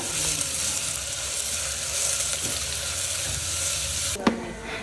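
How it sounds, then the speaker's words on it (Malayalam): Onion sautéing in a pan until it turns colour, a steady close sizzle with soft stirring scrapes, plus a brief louder clatter near the end. "ഇതൊന്ന് കളർ മാറുന്നത് വരെ ഒന്ന് വഴറ്റി കൊടുക്കാം"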